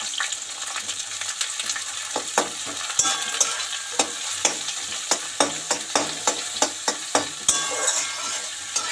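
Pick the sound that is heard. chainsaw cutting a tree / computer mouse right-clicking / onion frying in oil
onion frying in oil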